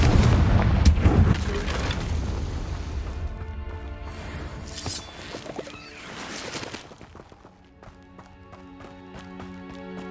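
A Confringo fire-blast spell exploding in Hogwarts Legacy combat, a loud heavy blast up front, then crackling impacts and bursts settling into quieter game tones and clicks.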